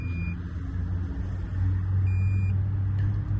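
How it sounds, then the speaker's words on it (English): Two short, steady electronic beeps sound inside a shopping mall, one at the very start and a longer one a couple of seconds later, over a constant low rumble of machinery. "I am really sorry about the beeping noise"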